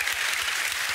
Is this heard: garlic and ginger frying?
no